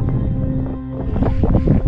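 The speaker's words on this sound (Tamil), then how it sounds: "சில்லுன்னு அந்த காற்று வருது பாருங்களேன்" Cool wind gusts across a hilltop in Coorg, buffeting the microphone in loud, uneven low rumbles that rise and fall over a couple of seconds, with no voices.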